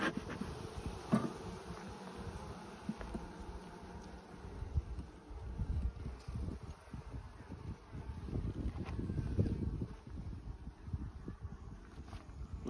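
Honey bees at an opened hive hum continuously close to the microphone, with occasional light knocks and rustling from handling the frames, steady and fairly quiet, with no talking.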